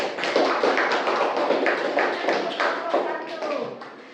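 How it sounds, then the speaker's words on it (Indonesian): A group of students in a classroom claps for group 1 with quick rhythmic taps, close and fairly loud, while voices chant or talk along underneath. "sekarang beri tepuk tangan untuk kelompok 1."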